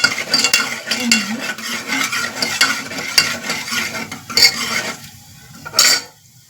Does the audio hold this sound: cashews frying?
yes